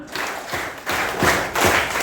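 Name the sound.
group clapping five times, the fifth count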